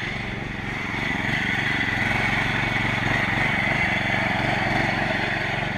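A small gas engine fitted to a Power Wheels ride-on toy car runs steadily at close range, a buzzy, rattling drone that rises slightly after the first second and then holds level.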